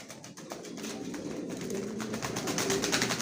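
Soft, repeated cooing of racing homing pigeons, low and throaty, overlapping calls from birds close by against a faint background hum.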